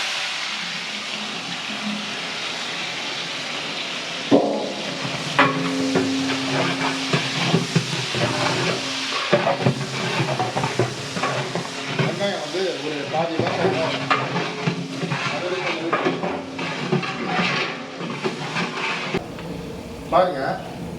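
Onions hit a hot pan and sizzle steadily while tamarind curry is cooked, with stirring and scraping over a constant frying hiss; a voice talks in Tamil through much of it.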